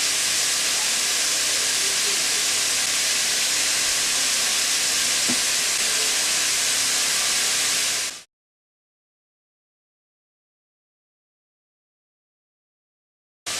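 Carrots and courgette sizzling in a hot pan for a chicken and vegetable risotto, a loud, steady hiss lasting about eight seconds that then cuts out abruptly into silence.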